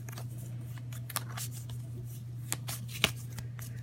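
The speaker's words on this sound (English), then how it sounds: "So you're going to want to shuffle your starter deck" Rapid riffling and snapping of a Pathogenesis board game starter deck being shuffled, several quick bursts of flicks close by over a low steady hum.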